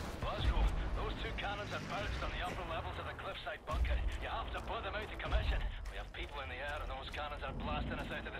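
Explosions in the video game Wolfenstein: The New Order land as several low, booming blasts spread through the gameplay, partly masked by a steady bed of game sound and a talking voice.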